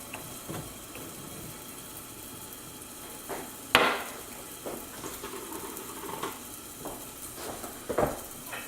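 A utensil stirs lamb and beef piperade with sweet peppers and baby leeks in a hot pan, giving a soft steady sizzle. A few louder scrapes and clanks of the spoon against the pan break through, and no one talks.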